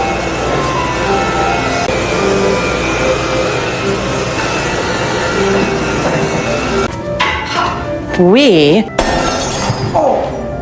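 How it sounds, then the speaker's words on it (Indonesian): An antique vase breaks with a shattering crash near the end, heard under ongoing narration and loud background sound. "Seketika mereka pun panik saat mendengar suara benda pecah."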